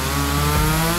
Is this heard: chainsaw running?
yes